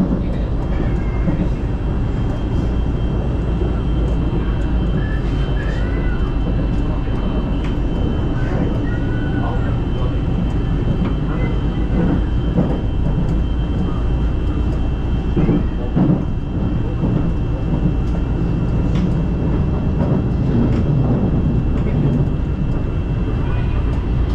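A Malaysian monorail train running on its rail from Bukit Bintang toward Bandar Tasik Selatan, heard from inside as a constant loud rumble and rattle with faint background voices.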